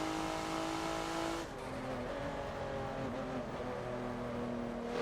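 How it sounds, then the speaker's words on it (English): A race car engine in the Forza racing game on the Rio track climbs through the gears, a steady loud whine breaking at one upshift then pulling on, with faint tire noise and no talk. "So third gear through here, fourth, not a problem"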